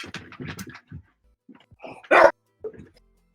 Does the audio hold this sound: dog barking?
yes